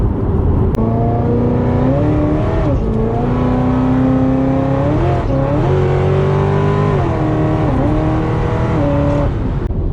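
A supercharged Corvette engine roars loudly as it accelerates hard, revs climbing and dropping through gear shifts, heard from inside the car, continuous with no talk.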